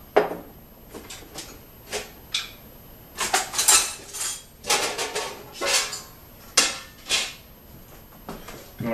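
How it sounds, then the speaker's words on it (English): A stock pot and other kitchen cookware clank and rattle as they are pulled out and handled, a string of sharp metallic knocks and scrapes spread irregularly through the stretch, fairly close and with no talking. "Going to get a stock pot."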